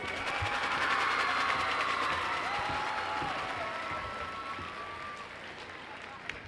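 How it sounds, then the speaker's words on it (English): A high school crowd at a 1999 homecoming pep assembly applauds the team with a thick, sustained roar of clapping and scattered whoops, which stays loud and slowly eases off over several seconds. "Let's give them a big round of applause, please."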